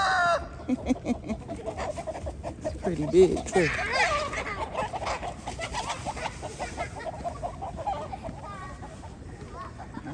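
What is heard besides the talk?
rooster crowing and clucking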